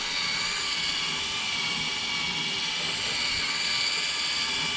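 Headlight lens being sanded with a power tool from a 3M headlight restoration kit, a steady high-pitched whirring hiss running unbroken throughout, close and fairly loud.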